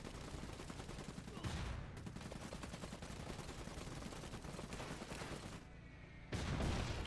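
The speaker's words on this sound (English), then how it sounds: "Engineers under fire!" Sustained gunfire rattles against engineers under attack in the dieselpunk mech strategy game Iron Harvest, dense and continuous over battle noise, with a brief dip before heavy firing resumes.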